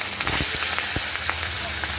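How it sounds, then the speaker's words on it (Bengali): Catla fish pieces frying two at a time in hot oil in a pan, giving a continuous close hiss studded with sharp crackling pops. "তেল গরম করে প্রথমে মাছগুলোকে একটু ভালো করে ভেজে নেব।"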